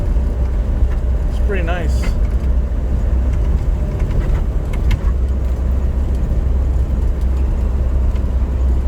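A 1968 Toyota Corona drives along a road, its engine and tire rumble a steady low drone throughout, with a brief squeaky chirp early on and someone speaking briefly over it.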